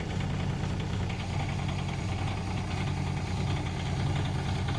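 An excavator's engine idles at low RPM with a steady, close diesel rumble and faint knocking texture, constant throughout with no voices.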